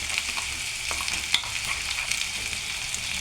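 Green chili paste frying in oil for a gokarakaya (cluster bean) curry, a steady broadband sizzle with faint stirring scrapes and one sharper tap, close by and with no voices.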